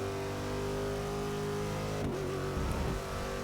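A modern race car engine in Forza Motorsport 6 drones at a steady high hum with layered harmonic whine, shifting pitch briefly partway through, with no voices.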